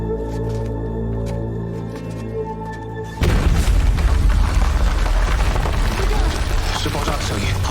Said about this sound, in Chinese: 是爆炸的声音